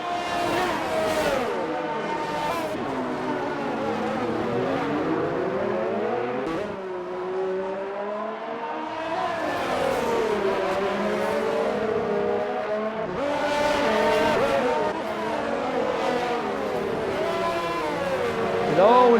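Formula 1 race cars, including a Ferrari, in a racing video game on the Monaco circuit: high engines rise and fall in repeated revving sweeps as cars accelerate and shift, steady and moderately loud throughout, with no talk.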